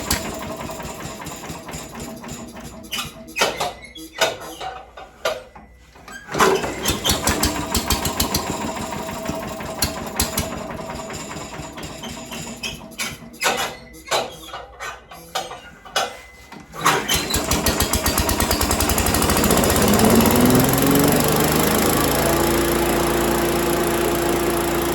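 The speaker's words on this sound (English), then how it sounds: "I want to brag and to see that it'll still start on the first pull" A small gasoline engine is pulled several times with rattling attempts and pauses before it catches, then settles into a steady, loud idle that runs on continuously.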